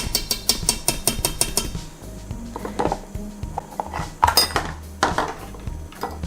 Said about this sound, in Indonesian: saya akan pindahkan adonan ini ke mangkok putih telur, karena saya suka mangkok putih telur ini yang saya gunakan KitchenAid